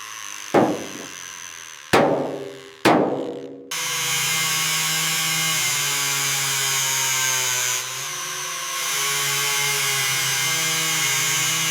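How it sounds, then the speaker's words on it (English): An angle grinder works a body-panel seam on a 1987 Ferrari F40 under restoration: three sharp metallic hits ring and decay, then a loud, steady high-pitched grinding whine runs continuously, dipping briefly before resuming. "Keep your angle steady, let the grinder do the work."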